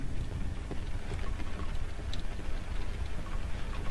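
Steady rain pattering inside the horror video game Cry of Fear, a dense, continuous hiss of drops with faint scattered taps, unbroken and without voices.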